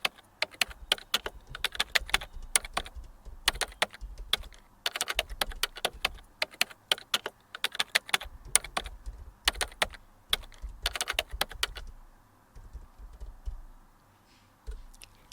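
Rapid clicks of a computer keyboard as a prompt is typed, arriving in close, crisp bursts with short pauses, the typing stopping near the end and leaving quiet room tone.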